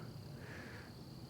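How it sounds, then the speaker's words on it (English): Outdoors on a homestead in spring, a bird calls once at moderate distance, a short cawing cry over a steady low background hum. "listening to the birds chirp"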